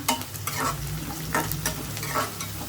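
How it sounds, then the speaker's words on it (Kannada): Turmeric and salt are stirred into frying ingredients in a pan for lemon rice, with a steady close sizzle and repeated scraping strokes of the spoon running throughout, no voices. "ಉಪ್ಪು ಅರಶಿನ ಪುಡಿ ಎಲ್ಲ ಇವಾಗಲೇ ಹಾಕೋಬೇಕು. ಸ್ವಲ್ಪ ಇದೊಂಚೂರು ಫ್ರೈ ಮಾಡ್ಕೊಬಿಡೋಣ."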